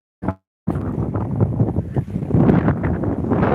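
Strong wind sweeps the boulevard at Embarcadero de Legazpi, beginning with a brief thump, then a short gap, then a sustained loud rushing roar buffeting the microphone and gusting stronger toward the end.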